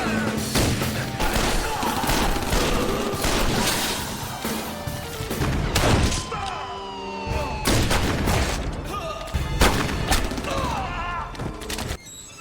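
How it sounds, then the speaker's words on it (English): Gunfire in a film firefight between two rival gangs: loud, dense bursts of shots and booming impacts, irregular and overlapping, with brief lulls and shouting mixed in. "A violent firefight erupts as the two gangs tear into each other."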